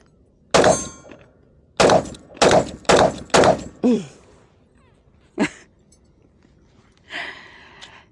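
Desert Eagle pistol fired at an outdoor range in a rapid mag dump: five loud, sharp shots in quick succession with ringing tails, followed by a couple of fainter clanks and metallic handling noises.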